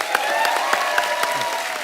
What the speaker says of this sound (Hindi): पहले तो दोनों भाइयों के लिए जोरदार तालियां